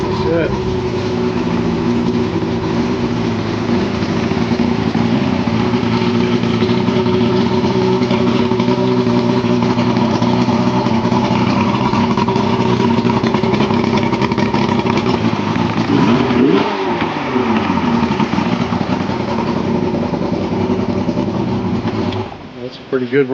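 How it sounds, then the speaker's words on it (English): A Yamaha 115hp two-stroke outboard with an oil system failure runs loud and close, holding a steady rough idle with a brief rev and dip partway through. "That's a pretty good running Yamaha there."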